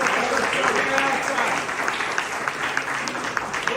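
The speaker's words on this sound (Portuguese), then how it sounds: "Você pode aplaudir o Senhor em nome de Jesus." A church congregation applauds during a Sunday worship service, a full room of steady clapping that holds for several seconds, with voices faintly mixed in beneath the hands.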